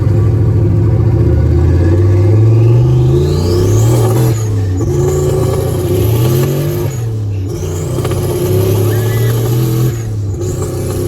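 A Datsun 240Z engine, still warming up, revs loudly and accelerates up through several gears, the pitch climbing and dropping at each shift, heard from close by inside the car.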